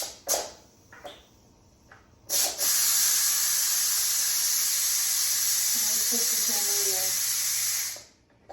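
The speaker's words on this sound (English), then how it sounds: "So now I'm going to open up the vent." Pressure cooker vent opened after bone broth has cooked under high pressure, releasing a loud, steady rush of hissing steam that runs for several seconds after a few brief knocks.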